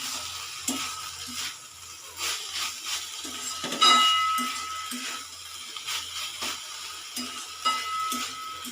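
Drumstick (moringa) flowers cook in a pan and are stirred, with soft rhythmic scraping strokes repeating over a faint sizzle and an occasional clink.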